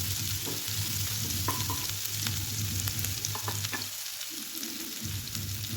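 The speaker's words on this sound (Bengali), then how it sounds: "এখন আমি সব উপকরণটি ভালোভাবে" Spices, chopped green chilli and other ingredients fry in a pan over a medium gas flame for a cauliflower Manchurian dish, with a steady close sizzle, a few stirring clinks and brief softer moments.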